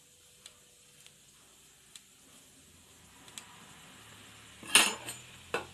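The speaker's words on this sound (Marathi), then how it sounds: "आधी मी खोबरं सुखं खोबरं घेतलं होतं ते भाजून घेते, म्हणून तेल नाही टाकत आहे." Dried coconut dry-roasting in a kadhai over a gas flame, with a faint background hiss and sparse light ticks of a spoon, then a few sharper scrapes and clinks of metal near the end.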